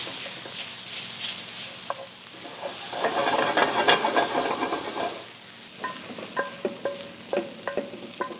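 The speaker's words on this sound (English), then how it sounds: "just with the back of my wooden spoon, I'm going to crush these" A wooden spoon crushes white beans against a pan over a soft sizzle, making a mushy scraping burst in the middle followed by a series of sharp knocks and taps of wood on the pan, close and without speech.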